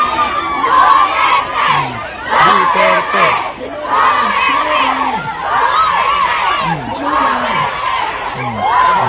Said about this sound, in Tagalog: Yan din yung sigaw,